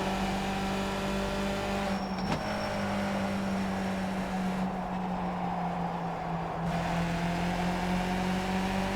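Skip Barber race car engines in iRacing, a steady droning engine note holding a sustained pitch with slight drifts as the cars run together on track, loud and continuous.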